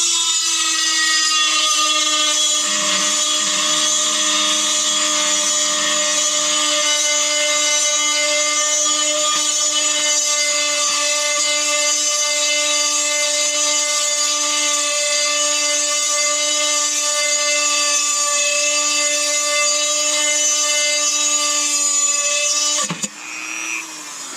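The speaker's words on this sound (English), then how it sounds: "it took less than a minute to drill both of those holes" A steady, high-pitched whine of a drill bit grinding through glass, running continuously and close before stopping abruptly near the end.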